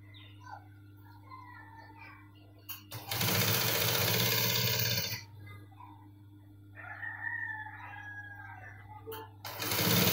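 Sewing machine stitching the straight edges of a cargo pocket, bursts of fast, steady motor whir lasting a couple of seconds each, separated by quieter stretches where a rooster crows in the background.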